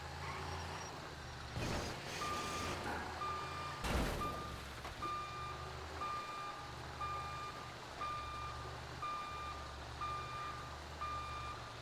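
Truck in a roleplay video game reversing, with regular evenly spaced beeps over a low diesel engine rumble, and two sharp hisses of air brakes early on.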